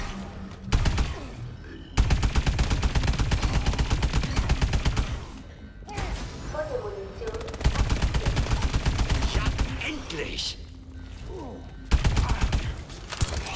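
Sustained automatic gunfire in the video game Call of Duty Advanced Warfare Exo Zombies, loud rapid bursts broken by brief gaps, with mechanical clicks and clatter between volleys.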